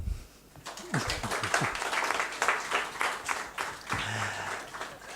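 A fourth-grade class of pupils at Dizac applauds themselves after winning a drawing contest, scattered uneven clapping from a small group in a room, moderately quiet with a few louder bursts.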